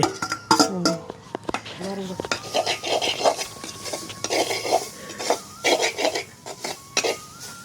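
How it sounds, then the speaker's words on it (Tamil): Grated coconut dry-roasting without oil in a pan for masi sambal, giving close scraping and stirring clatter with soft rasping, while people talk over it throughout. "இப்போ வறுத்து கொண்டிருக்கிறேன்"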